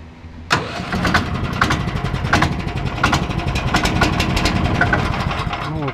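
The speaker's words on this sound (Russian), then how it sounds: "вот, двигатель так запускается" A tracked all-terrain vehicle's engine cranks and catches, then settles into a loud, rough idle with regular knocking pulses close by.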